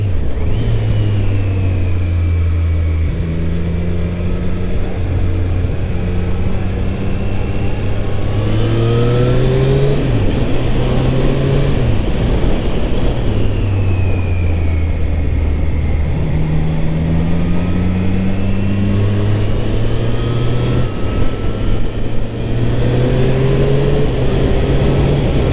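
A 2023 Triumph Street Triple RS motorcycle being ridden, its engine loud and close, climbing repeatedly in pitch through several quick upshifts and throttle changes over the whole stretch.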